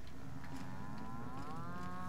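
Cattle lowing in The Outer Worlds video game, one long drawn-out moo rising and sliding in pitch over a steady low background hum, fairly close and alone with no talk.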